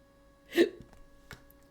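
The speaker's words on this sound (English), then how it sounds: "I have the hiccups now" A single sharp hiccup sounds close and fairly loud, followed by a faint second catch in the breath in an otherwise quiet room.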